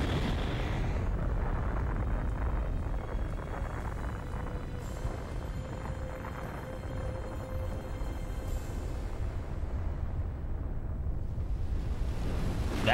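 A rumbling explosion follows the killing of Ares in the PS2 game God of War, a sustained loud roar like surging surf lasting the full thirteen seconds, with a faint whine partway through.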